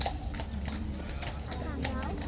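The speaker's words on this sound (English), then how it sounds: "This horse coming back on." Hooves clip-clop in a steady, fairly quick rhythm as a horse is brought back on, with a constant low rumble of a crowd or wind behind.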